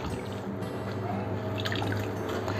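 Coconut milk drips and trickles steadily through a double-mesh strainer into a container, soft and close, with a low hum underneath.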